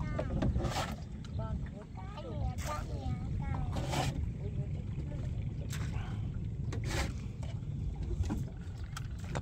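Motorboat travelling across the Tonle Sap lake in Cambodia, a steady low engine drone and water rush running throughout, with voices talking over it.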